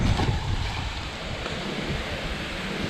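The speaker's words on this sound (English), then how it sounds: "I'm gonna try to block the wind noise as much as possible here" Strong wind buffets the microphone out on Long Lake, a steady rushing roar with water noise and occasional louder gusts, with no speech.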